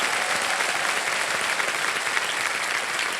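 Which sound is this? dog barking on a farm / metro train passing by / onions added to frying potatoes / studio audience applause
studio audience applause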